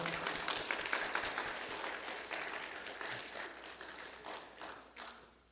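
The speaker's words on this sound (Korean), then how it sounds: "우리 박수로 감사하겠습니다" A church congregation at a pastor's ordination applauds steadily, the clapping dense and even at first, then slowly thinning and fading toward the end.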